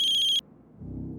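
A landline telephone at a house in Rajkot gives a short, loud electronic ring with a bright warbling tone, then cuts off abruptly and leaves a low, murky room rumble.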